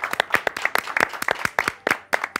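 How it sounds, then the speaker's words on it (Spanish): A small studio team clapping as a guest named Lisa walks onto a TV set, a loose burst of close, uneven handclaps from a few people, sharp and rapid, without talk. "Un aplauso de todo nuestro equipo para Lisa."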